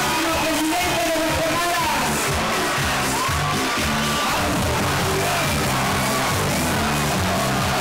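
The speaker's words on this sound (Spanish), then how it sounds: "¡Démosle un fuerte aplauso entonces!" Crowd at a Guatemalan political rally for Otto Pérez Molina cheers and yells loudly, a dense roar of shouts and whoops mixed with clapping, with a chant-like rhythm, sustained throughout.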